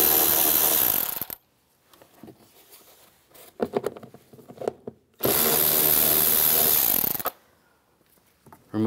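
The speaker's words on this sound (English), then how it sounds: "Underneath, you're gonna use a 7 millimeter socket." Power driver with a 7 mm socket backing out screws under a 2011-2019 Ford Explorer side mirror, two loud sustained whirring bursts separated by quieter clicks and handling noises.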